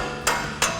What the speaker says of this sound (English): you can tap it with a hammer a couple times